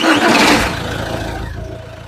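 The diesel engine of an MG Hector cranks and catches in a workshop. It has a loud starter burst and then settles into a low, steady idle that knocks rhythmically, heard up close.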